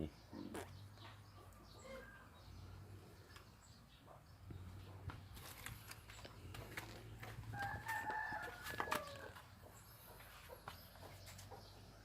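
Chickens in a village yard cluck steadily at close range, and a rooster's crow rings out clearly near the middle, over a constant low hum with no talk.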